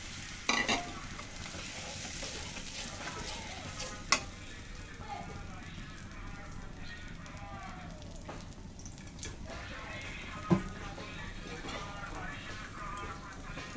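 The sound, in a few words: spice paste sizzling as it is added to the hot pan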